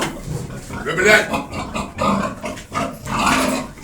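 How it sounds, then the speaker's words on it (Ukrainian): Pigs being given deworming pills grunt and snuffle nearby in irregular bursts, mixed in with people talking over them. "Сьогодні даємо таблетки свиням від листів."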